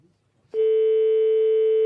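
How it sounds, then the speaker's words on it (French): Telephone line tone while calling a bakery, a single steady electronic tone that begins abruptly after a brief quiet moment and holds loudly to the end. "Ça sonne au Belle Miche"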